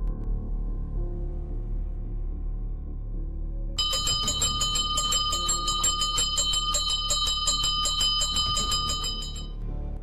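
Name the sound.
bell being rung as an alarm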